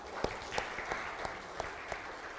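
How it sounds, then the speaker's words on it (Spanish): A church congregation claps for the Lord in fairly even, rhythmic applause, with distinct sharper claps standing out at a steady beat, moderately close. "Démosle un aplauso al Señor."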